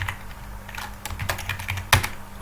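Keys clatter on a computer keyboard while someone types code, with a quick uneven run of close, crisp clicks and one sharper keystroke near the end.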